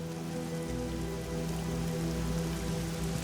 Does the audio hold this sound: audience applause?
no